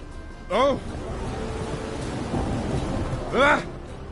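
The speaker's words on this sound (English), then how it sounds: "And it's raining again." Steady rainfall hisses through a Gwent-era fantasy game scene with a low thunder rumble underneath, and two brief voiced exclamations ring out near the start and end.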